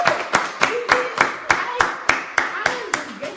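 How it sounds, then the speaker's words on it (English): Audience clapping in rhythmic bursts at a Nigerian economy book review, sharp claps recurring every fraction of a second, close and fairly loud, with faint voices murmuring underneath. "Clap for yourself."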